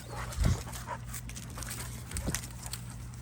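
Several dogs panting outdoors, rapid breathy panting close by with a couple of louder snorts and small whimpers over a low background hum.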